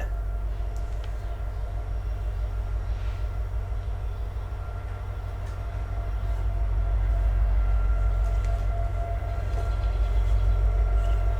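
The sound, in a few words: passing trains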